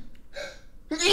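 A single person's sneeze in a crypto live stream, a quick sharp burst following a faint gasping intake, fairly close and loud against a quiet background.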